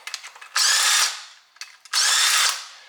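A power tool spins off the rear differential bolts on a Lexus IS300 drift car in two loud, close whirring bursts, each about half a second long, separated by brief trigger blips.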